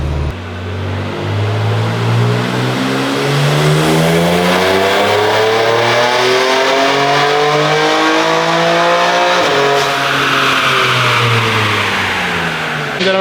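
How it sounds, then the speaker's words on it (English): A BMW G82 M4 Competition xDrive with an S58 engine and custom tune revs hard on a dyno, climbing in pitch for several seconds, dropping briefly, then winding up again, sustained and close with no talking. "we're just running the car again with our custom tune"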